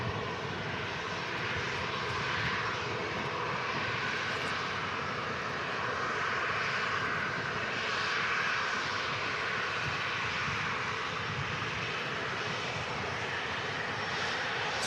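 A Ryanair Boeing 737 jet from Bologna rumbles at Manchester Airport, a steady broad engine roar that holds at the same level throughout, with no talk over it.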